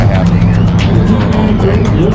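Drag race cars rumble loudly and steadily at The Strip, Las Vegas Motor Speedway, during Friday time trials, a continuous nearby engine roar with no break.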